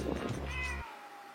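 A cat meows at home, one close and clear drawn-out meow that cuts off abruptly, with no talking.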